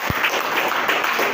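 An audience at a poetry gathering in memory of two poets claps in a dense, steady burst of applause, loud and close, with one sharp knock near the start.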